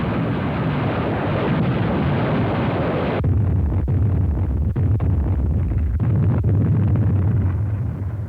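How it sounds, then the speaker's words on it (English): Deep rumbling blasts from a wartime rocket barrage ahead of a beach landing on Palau, a dense roar that drops into lower booming thuds with several sharp impacts, loud with a gritty old-film tone. "The assault troops were preceded by a rocket barrage, directed against the area behind the landing beaches."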